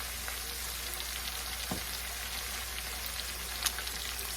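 Small onion pieces fry in a pan for Southern-style Great Northern beans, giving a faint, steady sizzle with occasional soft pops and no one talking.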